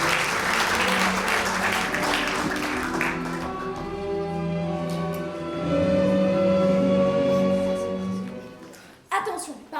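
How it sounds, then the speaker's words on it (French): An audience applauds at a school theatre performance, loud dense clapping at first that thins and fades as voices and music take over, with a brief burst near the end. "je vous demande d'applaudir Pamela Sue,"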